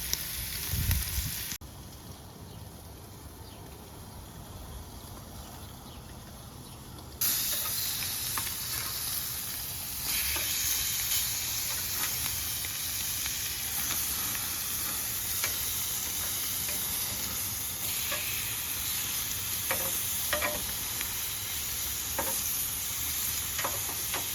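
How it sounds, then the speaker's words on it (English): Picanha steaks sizzling on a barbecue grill, a steady close crackle and hiss that swells louder after a few seconds and carries on with scattered sharp pops. "All right, so we got these sizzling here."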